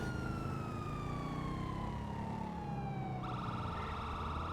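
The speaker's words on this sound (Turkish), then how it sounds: "Sirenleri açık bir şekilde sadece etrafta döndü." Police car sirens wail in the GTA V video game as a patrol car circles around, a steady falling siren tone over constant engine and road noise, loud and continuous, with the pitch shifting sharply near the end.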